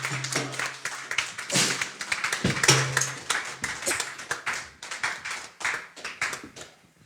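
A church congregation claps in a steady rhythmic beat, many hands striking together fairly close, with a low sustained hum underneath and the clapping thinning out toward the end.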